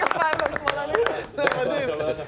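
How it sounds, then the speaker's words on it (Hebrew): Studio audience clapping to welcome a guest on a talk show, a short burst of sharp claps mixed with voices talking and cheering close by. "כפיים, כפיים"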